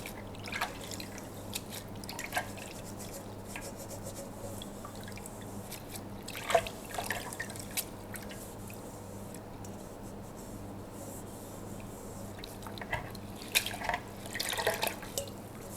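Water washes off freshly cleaned surfaces away from a sink, heard as faint, close dripping and light trickling splashes over a quiet background, with a few louder droplet bursts and no talk.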